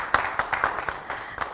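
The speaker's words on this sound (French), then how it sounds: "on applaudit très fort" A handful of scattered, fairly faint claps sound in a talk show studio in Benin, spaced irregularly over a second and a half.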